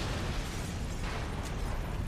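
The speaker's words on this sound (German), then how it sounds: "Der ist mal schön in die Luft geflogen," A tank blows up in the Mafia 2 video game, giving a loud, dense roaring rumble that holds steady for about two seconds without a sharp initial bang.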